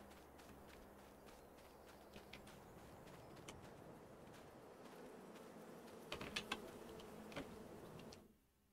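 Bees buzzing around hives in the farming video game Farm Simulator 22, a faint steady insect drone with scattered small ticks and clicks, a brief louder burst of clicks before it cuts out near the end.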